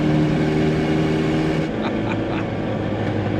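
A 1994 Ford Ranger pickup running nitrous pulls hard through third and fourth gear, a loud close engine drone that holds steady and then dips briefly at a shift before building again.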